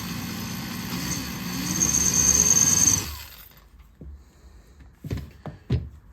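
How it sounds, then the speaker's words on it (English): A hand drill bores into an aluminum brake pedal from a 2009 Police Special motorcycle, a close, steady whining grind for about three seconds before it stops, followed by a few faint clicks and knocks. "This is aluminum, so it drills pretty easy."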